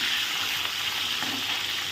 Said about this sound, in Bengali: এখানে আমি মাছ ফিশ ফ্রাই করছি